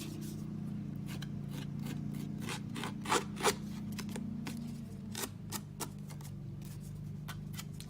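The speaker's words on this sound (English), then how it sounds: "I'm just going to rough up those edges." Old scissors scrape and snip along the edges of a paper card, giving a series of quiet rasping strokes and a few sharper clicks, faint and close over a low mower hum outside.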